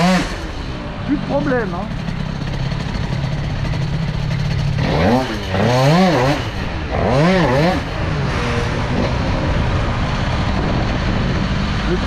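Stage6 MK2 air-cooled scooter engine cranks, catches and runs, with a rough idle broken by several rising revs, as someone speaks over it.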